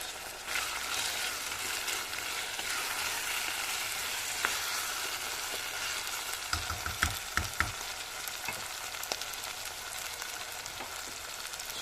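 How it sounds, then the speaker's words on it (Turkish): Minced meat with onion and tomato fries in a pan with a constant loud sizzle, and a brief cluster of spatula scrapes and taps partway through. "Evet birazcık kavrulsun soğanıyla kıyması."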